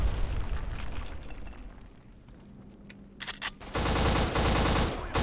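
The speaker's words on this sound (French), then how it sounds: "Je lance une grenade" Gunfire and a grenade explosion in the shooter game Black on Xbox One: scattered shots and small pops, then a loud sustained roar of blasts and heavy firing in the final seconds, with no talking.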